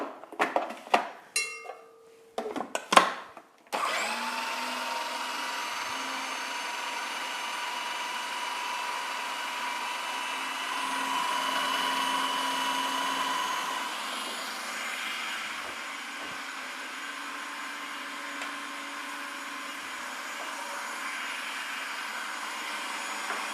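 An electric grinder whirs steadily for about twenty seconds, grinding boiled ingredients in a home kitchen, after a few brief clattering knocks as it is set up and switched on; the motor hum rises slightly midway.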